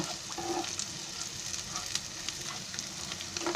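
Boiled potatoes sizzle steadily in hot oil in a pan, browning for an aloo matar paneer dish, with a dense, continuous crackle and occasional small pops close by.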